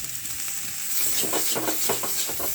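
Pointed gourd, ridge gourd and mung dal sauté in a pan with a soft, continuous sizzle and hiss, punctuated by a few quiet stirring scrapes near the end.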